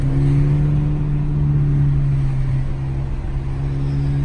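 A Mercedes A35 AMG engine drones loudly and steadily under acceleration, close and continuous with a deep, smooth tone and no talking.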